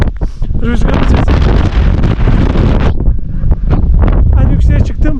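Strong gusting wind in a snowstorm at about 5000 m at Vichaycocha roars and buffets the microphone loudly throughout, with a sharp drop near the middle before it surges again.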